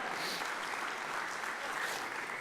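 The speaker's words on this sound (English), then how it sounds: "I want you to give Kyle Bell an applause up there." An audience applauds at a church talk in a steady wash of clapping that stays even and fairly faint for a couple of seconds, with no voices standing out.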